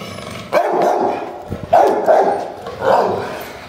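Three sharp dog barks spaced about a second apart, close and loud, with brief pauses between them.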